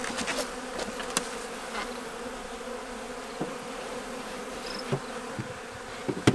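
Honeybees hum around an open hive during a queen introduction, a continuous soft buzzing drone with occasional louder passes of single bees flying close by, no voices.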